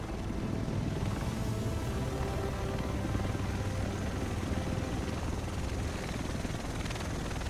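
A helicopter in The Division flies over Manhattan, giving off a loud, steady rotor roar that fills the whole stretch without letting up.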